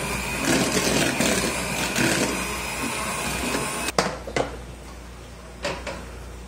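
An electric mixer beats cake batter with margarine for a banana cake, running as a steady, fairly loud whir for about four seconds before cutting off, followed by a few clunks and knocks.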